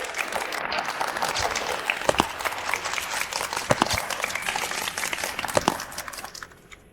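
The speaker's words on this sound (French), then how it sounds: "Applaudissons chaleureusement la mariée de ce soir" Wedding guests clap warmly for the bride in a lively hall. Dense, crackling applause with sharp individual claps holds for several seconds, then fades away at the end.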